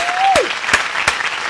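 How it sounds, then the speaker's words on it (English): Audience applause greets comedian Rodney Perry as he is introduced on a comedy talk show, heard as a short burst of clapping with a few sharp claps standing out over a held tone. "Ladies and gentlemen, big round of applause, Mr. Rodney Perry in the house"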